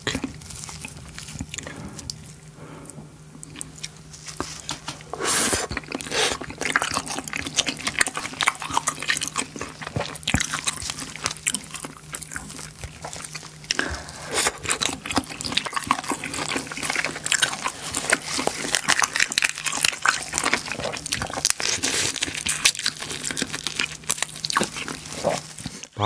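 Spicy mala crayfish being eaten up close, a long run of wet slurps, sucking and crunchy chewing with sharp cracks of shell, fairly loud and busy throughout with no talking.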